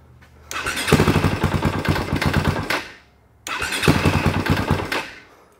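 A dirt bike engine running rich with a stuck carburetor float fires up in two separate bursts, each a few seconds of choppy, pulsing revving that fades out, with a short pause between.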